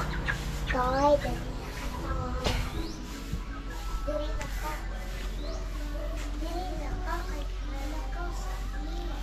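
Chickens cluck intermittently close by, mixed with background voices and a steady low hum.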